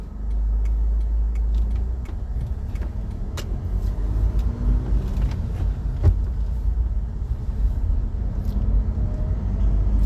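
Car engine pulling away from a handbrake start on a driving lesson, a steady low engine rumble throughout with occasional clicks and ticks from inside the cabin.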